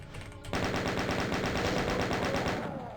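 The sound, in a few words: chaingunner enemies firing chainguns in Doom video game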